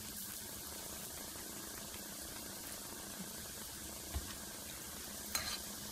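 Small balls of pasta dough fry quickly in hot oil, giving a steady, soft bubbling sizzle throughout with a couple of faint clinks, no voices.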